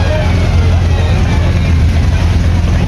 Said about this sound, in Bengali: ট্রলার ছেড়ে দিয়েছে অলরেডি।